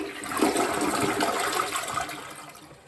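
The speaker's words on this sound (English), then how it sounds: "So we Turned the water on, filled the tank, and went ahead and flushed it." A newly installed Niagara Stealth toilet flushes once with a strong rushing gurgle of water. The flush is close and fairly loud and tapers off as the bowl drains, with no talk.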